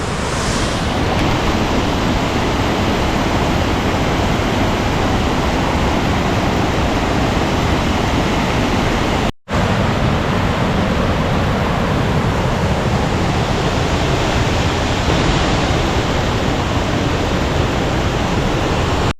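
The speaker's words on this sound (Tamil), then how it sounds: "ஃபால்ஸை காட்டுற பாருங்கள்." Thoovanam waterfall in Chinnar Wildlife Sanctuary roars as a dense, steady wash of falling water, loud and close, with wind on the microphone and one brief dropout midway.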